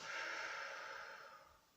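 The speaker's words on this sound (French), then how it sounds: "Inspire, je monte. Je bloque ma respiration. J'étire toutes mes vertèbres. Et expire." A single long, breathy exhale during a slow deep-breathing exercise, soft and close, gradually fading out over about two seconds.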